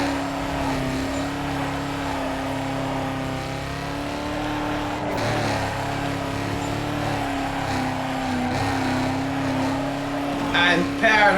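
Racing car engine in Need for Speed Carbon: a steady, loud, high-revving drone held throughout, with a brief crackle and rasp near the end.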